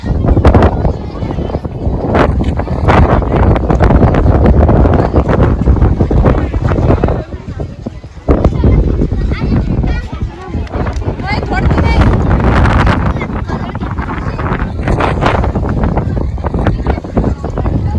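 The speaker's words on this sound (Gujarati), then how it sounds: "એકલો પવનનો અવાજ આવતો હશે." Strong wind buffets the microphone in loud, rumbling gusts on a mountain climb, with a brief lull partway through and voices faintly mixed in.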